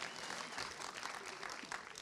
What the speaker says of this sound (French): Mais les applaudissements, c'est pour Eric